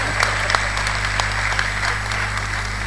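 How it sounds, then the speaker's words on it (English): An audience at a conference at the Hilton in Abuja breaks into brief applause, a dense patter of clapping over a steady room hum, lasting a few seconds. "Clap for her in advance."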